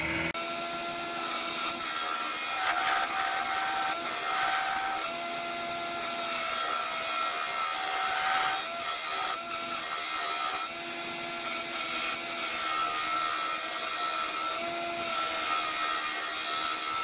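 A woodturning tool cuts an ash bowl spinning on a lathe, a continuous loud scraping, rushing whine that holds for the whole stretch with small dips and surges as the tool shifts against the wood.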